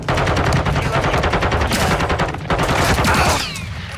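KV Broadside shotgun firing in Call of Duty: Modern Warfare II, loud repeated blasts in quick succession amid dense battlefield noise, no talking.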